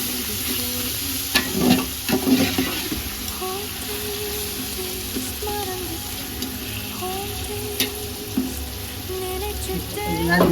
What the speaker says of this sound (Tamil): தக்காளி ஒரு 7 பச்சை மிளகாய் ஊற்றி நல்லா வதக்கணும்.